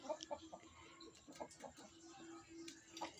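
Chickens clucking in short repeated bursts, fairly close, with a soft steady hum underneath.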